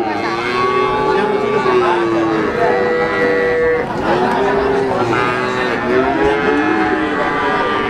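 Limousin cattle at a cattle market low repeatedly, with several long moos overlapping one another, close and loud above a busy background of market chatter and voices.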